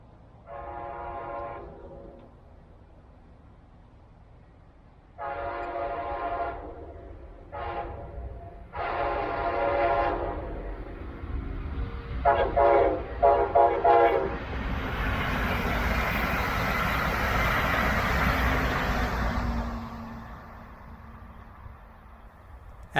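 A Brightline passenger train on a crew qualification test run sounds its horn in several separated blasts, then passes close by with a loud, sustained rumble and rail noise that slowly fades, with no voices.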